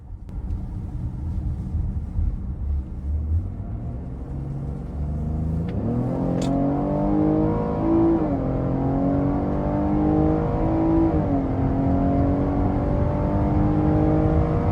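A 2025 Cadillac XT6 Premium Luxury's V6 engine builds from a low rumble into a strong acceleration, its rising pitch climbing through two distinct gear shifts, heard steadily from inside the vehicle.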